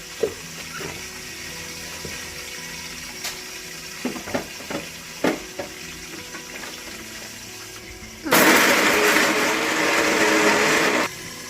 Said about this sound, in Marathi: तोपर्यंत आपण वाटून बारीक करून घेऊया